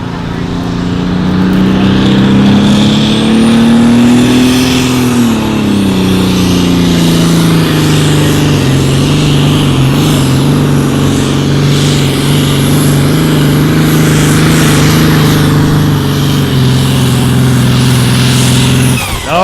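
An unlimited super stock pulling tractor roars loudly and continuously down the track at an outdoor tractor pull in Madison, South Dakota, its engine pitch rising, dipping, then holding steady as it pulls.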